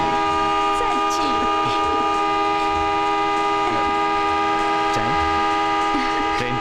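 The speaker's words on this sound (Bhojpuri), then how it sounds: "ट्रेन के सिग्नल हो गए ना।" A train horn sounds as one long, steady blare that fills the whole stretch, with faint scattered background noise beneath it as a train prepares to depart.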